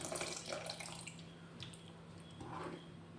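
Tamarind water poured into a pot of Tamil Nadu–style sambar with well-cooked vegetables, a steady close splashing pour lasting a few seconds without speech.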